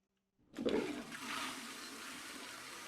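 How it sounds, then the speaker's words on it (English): A toilet flushes in a bathroom of a house without power, starting with a sudden gurgling rush of water that settles into a steady, quieter draining hiss, heard alone at a moderate distance. "so we have no power, but that flushes"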